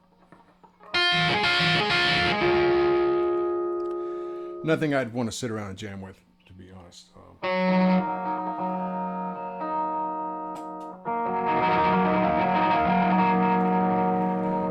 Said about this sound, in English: Just have the boost up at dimed out and the distortion at near 0.